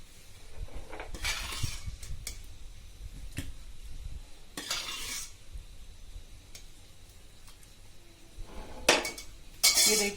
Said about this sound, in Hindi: ये पूरी दाल मैं सर्व कर रही हूं।